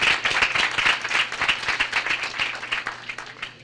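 Audience applause at a community award presentation, many hands clapping in a dense, steady wash that carries on for several seconds before thinning out near the end.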